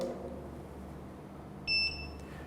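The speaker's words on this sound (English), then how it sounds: "every time I change the power of the strobe or the strength of the light of the strobe, you hear a beeping sound." A BRX 500 photography strobe gives a single short, high electronic beep as it finishes charging, clear against a quiet room hum.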